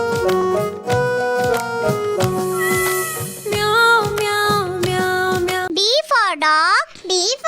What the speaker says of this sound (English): C for cat, C for cat.